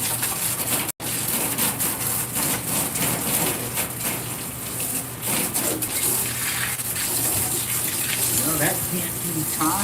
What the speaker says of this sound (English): We're just rinsing down the inside.